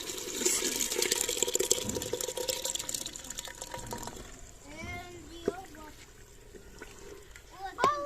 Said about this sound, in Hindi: हम पानी जो है ये भी साथ ही डालेंगे और दाल ये भी डाल देंगे